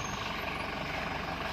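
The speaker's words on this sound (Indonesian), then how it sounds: "Ah, ini dia truknya." Truck loaded with pineapples idling nearby, a steady low engine drone with a faint high whine and no voices.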